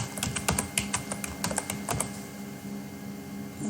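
Rapid, irregular clacking of a computer keyboard as C code is typed, keystrokes close and distinct, denser in the first two seconds then thinning, with no voices.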